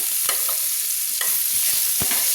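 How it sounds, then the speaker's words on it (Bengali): Potatoes with turmeric and salt being stirred in a pan, a continuous close sizzle broken by several distinct scraping and tapping strokes of a spatula. "হলুদ লবণ দিয়ে আমি ভালো করে নেড়ে নিয়েছি"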